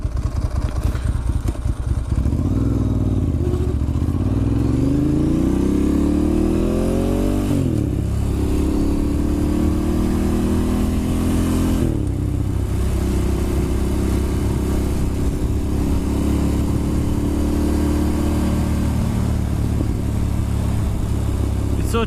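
A Ducati Monster S2R 1000 rides along a road, its engine droning loud and close with rising and falling pitch as it shifts through gears and accelerates, wind rush mixed in, no talk.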